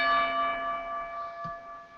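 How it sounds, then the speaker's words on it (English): Single bell struck once, its ringing tone decaying slowly, with a faint knock partway through, heard on a live hockey podcast. "Lousy bell. I'm gonna ring this one"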